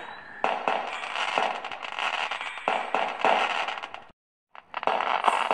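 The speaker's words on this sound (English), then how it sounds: "I love fireworks" Fireworks at a New Year's Eve party crackling in a dense, continuous barrage with sharper pops throughout, loud and near, briefly cutting to silence before resuming, with no talking.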